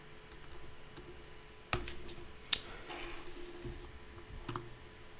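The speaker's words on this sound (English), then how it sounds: "So I'm going to type xe.com." Typing on a computer keyboard, scattered light key clicks with a couple of sharper taps, faint and close in a quiet room with a low background hum.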